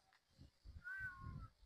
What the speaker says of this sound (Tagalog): Ala, natakot ako sa pusa. Tingnan mo yung pusa.